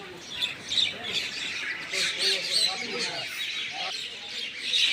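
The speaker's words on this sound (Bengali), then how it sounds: "এই পাখিগুলো আমার বন্ধু হয়ে গেছে।" Small birds chirp and tweet repeatedly outdoors in quick bursts, fairly close and moderately loud, over a background of general outdoor noise.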